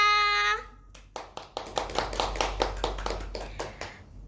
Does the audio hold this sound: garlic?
no